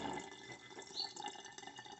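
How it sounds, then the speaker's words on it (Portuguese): Cold tap water pours and trickles gently over a reborn baby vinyl kit part, a faint, continuous splashing with small drips, heard alone and softly. "Aí agora eu vou pôr água fria. Pode ser a água da torneira mesmo."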